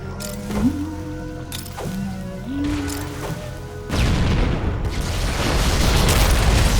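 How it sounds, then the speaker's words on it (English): Grenade blast in Halo: Combat Evolved Anniversary, a heavy booming explosion that follows tonal game music and rumbles on loudly with debris-like noise. "Need to get a grenade down there."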